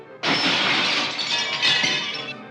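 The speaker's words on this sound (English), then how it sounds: "Renfield, the fly-eater, leapt through a glass window." A glass window shatters loudly and close as someone leaps through it, a sudden crash followed by about two seconds of tinkling, crashing shards.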